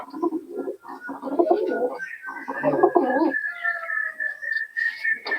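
Pigeons at a Giribaz and Teddy pigeon sale in Murshidabad coo repeatedly at close range, low throaty rolling calls in bursts with a steady higher tone, under people talking.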